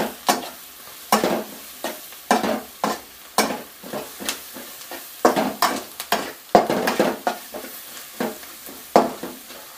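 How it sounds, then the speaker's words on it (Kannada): Sambar powder and chili powder fry in oil for tomato gojju, heard as a steady sizzle under repeated sharp scrapes and clinks of a spoon stirring the pan, with no talk. "ಸಾಂಬಾರು ಪುಡಿ ಮತ್ತು ಖಾರದ ಪುಡಿ ಹಾಕ್ತೀವಲ್ಲ, ಅದು ಎಣ್ಣೆ ಜೊತೆ ಬೇಯಬೇಕು"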